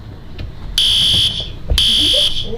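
A hotel fire alarm set off by a child blares in two loud, shrill electronic bursts of about half a second each, close and piercing over a quiet room.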